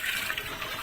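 Water gushes into a large pot holding six kilos of rice for degi biryani, a steady splashing pour with no break.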